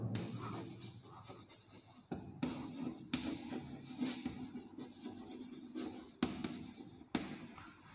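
Pen strokes scratch on paper as a geometry definition is written out, forming a steady stream of scribbling with a few sharper taps and no talking.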